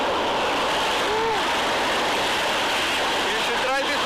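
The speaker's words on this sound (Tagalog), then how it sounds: "Ang lalaki ng alon." Big ocean waves break and wash steadily along Ruby Beach on Washington's Olympic Peninsula, a continuous broadband roar of surf that fills the whole clip, with faint brief sounds rising over it now and then.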